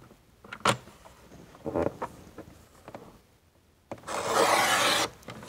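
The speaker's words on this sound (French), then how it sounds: "on prend une dernière enveloppe, peu importe le côté du rabat, on vient couper" A kraft paper envelope is handled with a few soft rustles and taps, then cut with one sustained, rasping slice lasting about a second, close and fairly loud.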